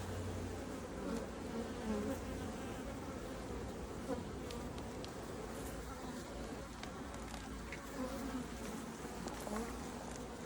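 Honeybees buzz around an opened Langstroth beehive during an inspection, a continuous low droning hum with individual bees passing close, fairly quiet.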